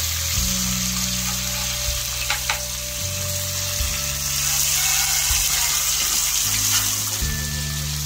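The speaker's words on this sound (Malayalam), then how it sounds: "അപ്പോൾ ഇത് മീൻ പൊരിച്ചു പോരണം. 2 സൈഡും നല്ലപോലെ മുരിഞ്ഞ് കിട്ടണം." Fish pieces frying in oil in a pan for fish pickle, a loud continuous close-up sizzle with a steady hiss and occasional small crackles throughout.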